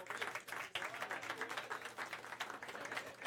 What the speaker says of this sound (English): Let's give a big round of applause to the other candidates that are here for chair.